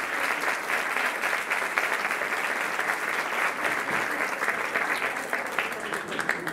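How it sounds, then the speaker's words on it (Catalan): An audience at a dance-group section festival in a municipal civic centre claps steadily, a dense, even wash of applause that holds at a constant level throughout. "us demanem un fort aplaudiment per tot el públic que ens està veient des del sofà de casa seva"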